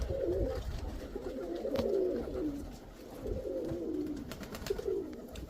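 Pigeons coo in repeated low, throaty phrases, several soft rolling calls in steady succession, fairly close with a faint background hum.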